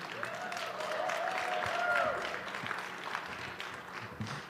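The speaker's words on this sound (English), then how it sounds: "Let's give a round of applause for all of our offerings this evening." Audience applause at an evening Christmas concert of songs and tastes, a moderate wash of clapping that swells near the middle and tapers off, with a sustained sung or whistled tone gliding faintly above it.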